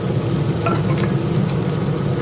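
Onion, carrot and capsicum fry together in a pan, a dense, continuous sizzle close by with stirring mixed in and no one speaking.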